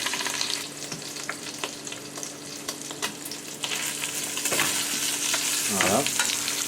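Steady sizzling and crackling of lamb shank frying in butter in a tall pan, with occasional stirring and scraping sounds close by.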